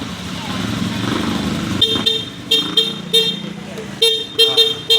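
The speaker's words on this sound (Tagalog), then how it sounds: "Busina ka, busina." A car horn newly installed as an upgrade toots in a string of short, loud honks near the microphone, starting partway through and repeating irregularly over a running engine, with people talking around it.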